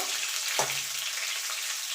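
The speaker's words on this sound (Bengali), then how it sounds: "ফোড়নটা একটুখানি ভাজা ভাজা করে নেব।" Nigella seeds and green chilli fry in a little oil as a tempering for a winter potato, brinjal and mourala fish chorchori, a soft continuous close sizzle with one small knock, no talk.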